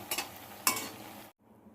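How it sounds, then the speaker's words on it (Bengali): Jackfruit koftas fry in a pan with a soft sizzle and two sharp utensil clinks or scrapes, then the sound cuts to near quiet. "এবার আমি আরেকটা এই অপর পিঠটাও ভালো করে ভেজে নেব"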